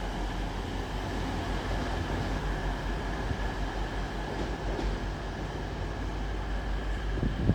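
A train departs at a Nottingham station, rumbling steadily on the rails, a low continuous roar with faint clacking and a few higher squeals, getting slightly louder near the end.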